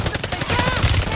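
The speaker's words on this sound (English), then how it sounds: "He's just shooting." Rapid automatic gunfire in a shooter video game set on Ashika Island, a steady burst of dense shots running nearly continuously at close range, loud and sustained, with a voice talking underneath.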